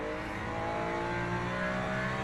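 A race car engine in the Le Mans Ultimate driving game drones steadily at sustained revs, a constant, dense mechanical tone with no pauses, heard alone.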